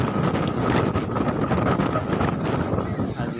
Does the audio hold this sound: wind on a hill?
yes